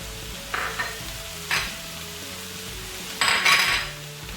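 Chicken and mushrooms fry with peppers and onion in a pan, a steady close sizzle broken by several scraping stirs and light utensil clinks against the metal.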